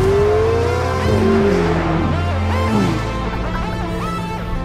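A Ferrari Roma accelerates hard, its engine note rising and then dropping through gear changes, loud and close, ending in a lower steady drone.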